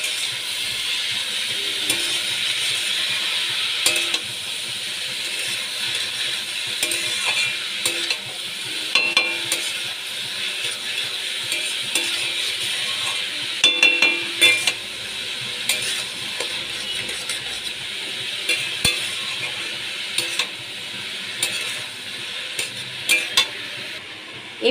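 Cabbage sautéing in a pan with salt for a vegetarian Bengali dish, giving a steady continuous sizzle and hiss with frequent scraping stirs throughout, close and fairly loud, with no voices.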